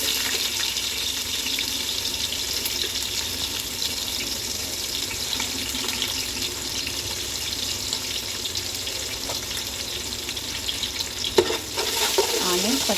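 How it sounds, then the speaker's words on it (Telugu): Onions and green chillies frying for donne biryani, a loud continuous hiss of sizzling oil that is close and steady, with a few faint stirring clinks near the end and no voices. "ఆనియన్స్, పచ్చిమిర్చి ఇప్పుడు రెండు బాగా ఫ్రై అవ్వాలి."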